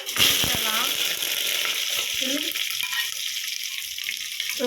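Mustard seeds splutter and crackle in hot oil with curry leaves and dried red chillies added, a busy frying hiss close by, with a voice talking briefly over it at the start.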